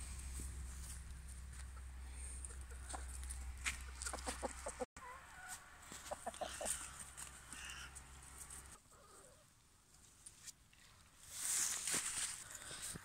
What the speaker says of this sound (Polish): przypędzę kury na pole bitwy